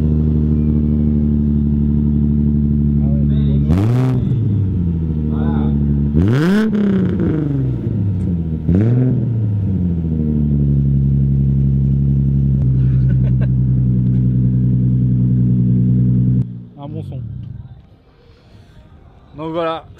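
A modified Japanese car with a real carbon hood starts at a Japanese car festival, idling loud and close, then blips the throttle in three sharp rising revs before the engine cuts out and brief voices follow.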